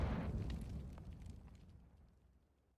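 A single grenade explosion in a competitive shooter video game, a loud deep boom at the start that rumbles and fades away over about three seconds.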